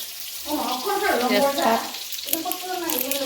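Cumin, ginger, garlic, green chillies and onion hit hot oil with a close bubbling sizzle that swells, eases briefly, then picks up again.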